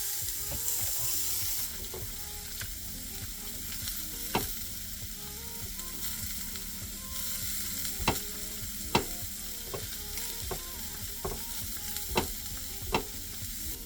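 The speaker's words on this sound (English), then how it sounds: "So I'm using sausage rounds, original breakfast sausage rounds. I figured this will be quick, fast fry" Breakfast sausage rounds fry in a pan with a steady close sizzle, broken by sharp clicks and scrapes of a utensil against the pan, and no voices.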